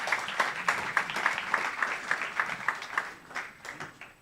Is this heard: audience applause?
yes